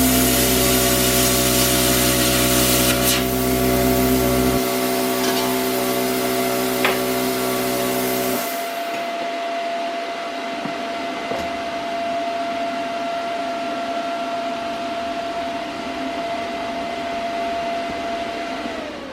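A power tool whines steadily while cutting the top out of a thin helium tank, loud and close; the motor pitch shifts partway through and then runs on with a thinner, rasping cutting tone, no talk.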